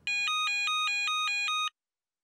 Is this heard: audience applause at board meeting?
no